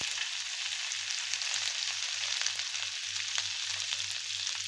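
Grated ginger hits hot oil in a pan already crackling with mustard seeds and cumin, giving a bright, steady sizzle and frying hiss with small pops throughout and no voices.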